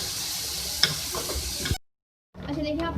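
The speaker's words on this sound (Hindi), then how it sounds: "इसको मिक्स करेंगे, थोड़ा कुक भी करेंगे।" Red chilli and turmeric powder stirred and cooked in a pan, a steady close sizzle with scraping stirs, cut off by a brief silence before the frying resumes.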